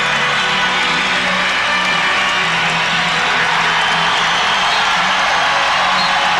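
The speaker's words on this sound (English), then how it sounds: "Once again, the crowd urging the Pistons on." A basketball arena crowd urges on the Detroit Pistons during a 1992 home game against the Chicago Bulls, a loud, continuous roar of cheering, whoops and shouting that fills the whole stretch without a break.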